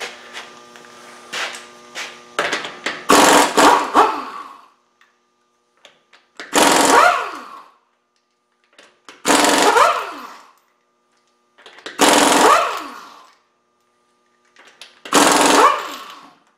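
An impact wrench removes 21 mm lug nuts from the front wheels of a 2012 Hyundai Sonata, firing in five separate loud rattling bursts of a second or two each with quiet gaps between.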